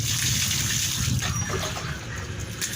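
Water pours steadily into a glass bottle being readied for straw-baked chicken, a continuous close gushing splash with no talk over it.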